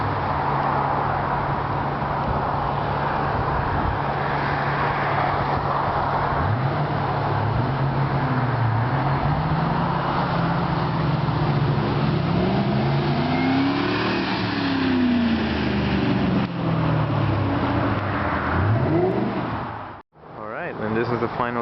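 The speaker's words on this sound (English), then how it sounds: "He's going to reach 15 miles per hour when he reaches the pole, and he's going to keep accelerating from there." A car accelerates steadily toward a pole for a physics demonstration of velocity and acceleration, its mid-pitched engine rising and falling through gear changes for about twenty seconds, heard continuously before cutting off abruptly near the end.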